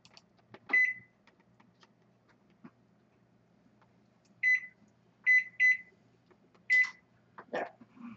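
Short electronic beeps from an oven control panel as the oven is set to preheat, one single beep followed later by several quick tones in a row, clear and close in a quiet kitchen.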